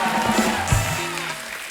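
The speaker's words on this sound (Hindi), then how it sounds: "जोरदार तालियां" Studio audience applause on a Hindi television comedy talk show, a dense, even wash of clapping filling the short stretch at moderate volume, with no clear talk.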